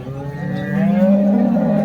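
A pregnant Holstein Friesian (HF) cow gives a single long, loud, low moo close by, rising and holding steady for nearly two seconds.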